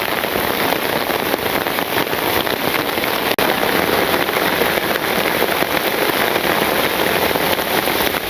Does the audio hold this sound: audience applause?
no